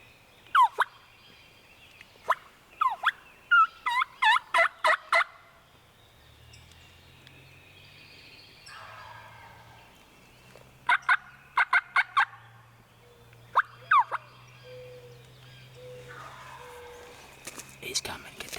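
A wild turkey gobbles during a spring hunt on an Illinois farm, its rattling calls ringing out in several loud bursts over a quiet outdoor background while hunters whisper nearby.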